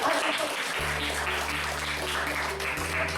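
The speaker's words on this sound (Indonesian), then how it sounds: "Oke, tepuk tangan." Classroom applause from students during a guidance lesson, a steady dense patter of many hands clapping throughout, moderately loud, with a low steady hum underneath.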